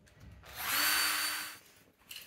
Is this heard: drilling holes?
yes